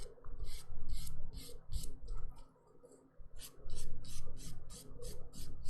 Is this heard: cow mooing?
no